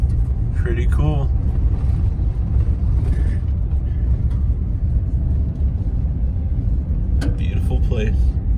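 A pickup truck, a Tundra, driving on a gravel road in the Badlands, a constant low rumble of tires and engine filling the cabin, with brief voices and chatter at the start and end.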